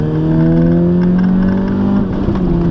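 A car engine drones loudly and climbs in pitch as it accelerates on the road with a driving instructor, steady and close, with a brief dip near the end.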